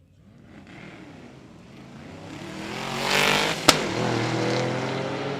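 Drag racing cars at Cordova Dragway, an engine roar building from faint to loud as a car launches and accelerates away, with a sharp crack partway through and sustained revving after.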